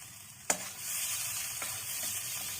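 Masala for onion- and garlic-free dal makhani sizzles steadily in a pan, a soft continuous frying hiss with one sharp utensil clack early on and faint stirring scrapes.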